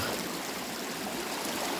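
A river stream flows steadily nearby, a dense, even rush of water with no talking.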